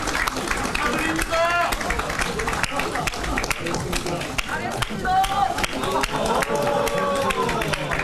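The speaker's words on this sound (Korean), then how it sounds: "모두 박수 부탁드립니다" Applause at a Korean Liberty Korea Party commendation ceremony for lawmakers, a steady dense wash of clapping from a gathered crowd that runs throughout, with voices talking over it.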